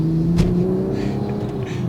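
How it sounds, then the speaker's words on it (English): A 2020 Toyota Supra MK5 with 20,000 miles pulls away and accelerates, its steady engine drone heard from inside the cabin and rising slightly in pitch over two seconds. "setting off now in the Toyota Supra"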